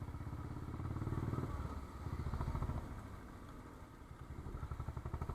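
A motorcycle climbs a steep hillside road, its engine chugging in a quick, rhythmic pulse with some clatter, heard fairly faintly and steadily throughout with no talking.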